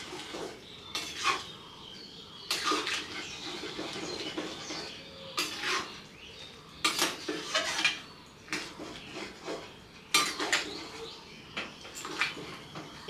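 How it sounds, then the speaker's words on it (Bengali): Food being stirred and mixed in a cooking pot for a Chaitra Sankranti home meal, with repeated scraping and clattering of a metal spoon against the pot in uneven bursts over a low background. "একটু নেড়ে দিব, নেড়ে মিশাই দিব এটাকে।"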